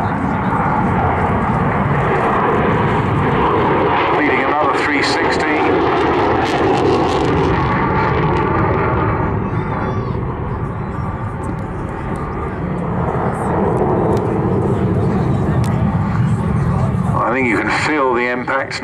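A SAAB SK-37 Viggen delta-wing jet with a small high-set canard roars loudly and continuously at the Southport airshow, its broad engine noise sustained throughout while a commentator talks over it.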